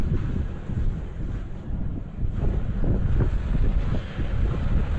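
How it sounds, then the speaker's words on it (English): Gusty wind off-road buffets the microphone in a loud, continuous low rumble that swells and eases throughout, with no voices. "It's a little windy out here."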